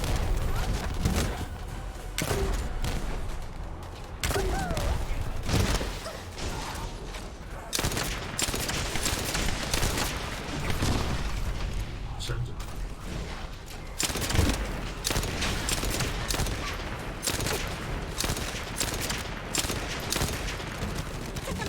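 Rapid hand cannon gunfire in a video game boss fight, dense bursts of shots and booms running almost continuously, loud and close, with some talk mixed in.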